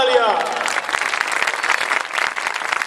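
An audience at an Easter church program in Roras, Sialkot breaks into loud, dense clapping that fills the hall and holds steady for a few seconds.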